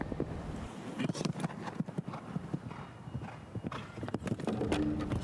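A show jumping horse canters around an arena course, its hooves striking in a quick, steady clip-clop rhythm at moderate distance, with light wind noise on the microphone.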